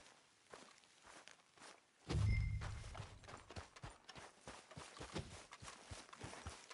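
Horse hooves clop in the video game Red Dead Redemption 2, a quiet run of regular footfalls starting after a soft thump and continuing in a steady rhythm, with faint background sound.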